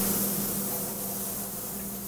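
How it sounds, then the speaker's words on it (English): Spray booth applying a blue protective coating to eyeglass lenses in a tray, a steady close hiss of spray over a constant low machine hum, unbroken throughout. "First, the tray goes to the spray booth, where the lenses receive a blue protective coating."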